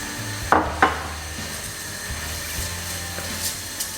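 Lemongrass gets stirred in a pan for a Thai-style cod dish, with two quick wooden clacks early on over a low, steady sizzle and a few lighter knocks and scrapes afterward.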